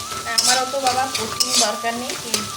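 Egg bhujia fries in a pan, close and crackling, with repeated spatula stirs and scrapes over a constant sizzle.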